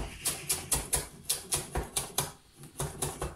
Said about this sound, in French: Donc tailler la menthe.